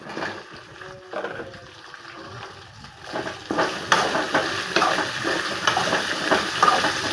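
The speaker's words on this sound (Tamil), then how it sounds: "இப்போது வெண்டைக்காய் போட்டுக்கிறேன்." Okra slices go into a hot pan seasoned with garlic and start to sizzle and fry, a soft clatter followed by steady crackling that grows louder after a few seconds.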